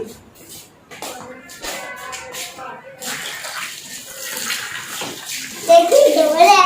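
A dirty plastic water container is being washed out with water, splashing and sloshing through the clip, growing louder near the end, while children and adults talk over it.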